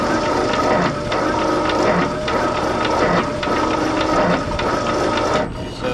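A 1952 Ford 8N tractor engine cranks over on the starter during a compression test, giving a steady rhythmic churning with regular pulses that runs loud for about five seconds before stopping.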